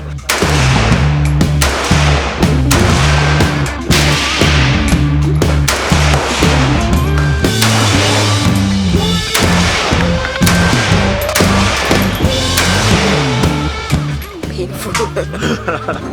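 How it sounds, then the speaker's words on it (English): Gunshots from a fixed gun at a shooting range in Ho Chi Minh City, a rapid series of loud, sharp cracks in quick bursts, close and dominant, with faint voices around. "That was actually our first time shooting a gun ever."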